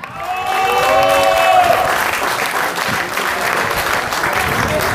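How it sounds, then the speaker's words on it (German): A crowd at a championship celebration claps loudly and steadily, dense applause that swells in and holds, with a voice speaking over it at the start. "trotzdem guten Applaus und schönen Applaus für den Sold Gerag"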